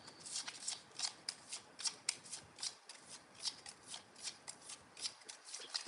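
Tarot cards are shuffled close up in a regular riffling rhythm, a crisp flutter repeating about every half second, with no speech over it.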